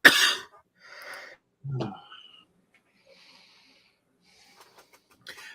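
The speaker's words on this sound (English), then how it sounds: "I've got 2 lungs, so I can cough one up at a time" An adult gives a loud, close cough followed by a couple of rougher, throaty coughs, then quiet rustles and small clicks in an otherwise silent room.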